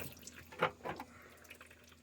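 Transmission fluid sloshes and drips from the pan of a 2006 Chevrolet Trailblazer raised on ramps, with a few quiet splashy bursts and trickles at close range, and no talking.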